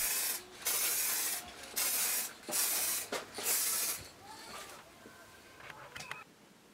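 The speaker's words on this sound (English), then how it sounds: "Here I'm using a spray-on acrylic varnish." Spray-on acrylic varnish hisses from an aerosol can onto a wooden tray in several close, steady bursts that fade into quieter spraying toward the end.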